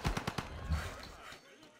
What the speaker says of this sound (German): Ach, das sind zwei Gatling-Kanonen.